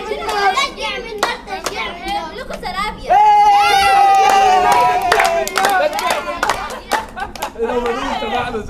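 A group clapping and cheering in a rhythmic burst, with sharp hand claps, children's voices and excited shouts mixing close by, swelling loudest midway before thinning into scattered claps and chatter.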